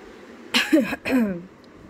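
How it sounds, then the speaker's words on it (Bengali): A couple of harsh coughs close to the microphone, with a throaty rasp, against a quiet background. "সরি, খুব কাশি হয়েছে, গলায় খুসখুসানি চলছে"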